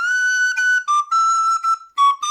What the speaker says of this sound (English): So this is classic Irish whistle playing.